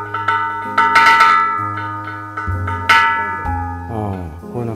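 An old fire brigade bell kept at a historic storehouse in Tatsuno is struck several times, each loud metallic clang ringing out and decaying with bright overtones, close and alone without speech.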